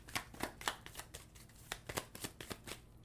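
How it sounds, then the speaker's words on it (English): A deck of tarot cards is shuffled and cut in a quiet room, giving a steady run of soft riffling flutters and papery slaps, close and faint, with nobody talking. "let me pull a clarifying card for the 3 of Swords"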